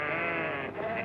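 A sheep bleats in one sustained, wavering cry close by, on its own without talk.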